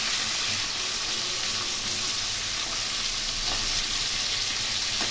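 Hilsa fish pieces, coated in salt and turmeric, fry in hot oil in a wok with nigella seeds, giving a steady, dense sizzle that runs close and loud without a break.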